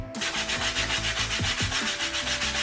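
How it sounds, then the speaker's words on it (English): Sandpaper rubbed by hand along a cut edge of a homemade Darth Vader costume belt, a steady close back-and-forth scraping in even strokes with no voices. "you go through with a sandpaper and sand it down to the line"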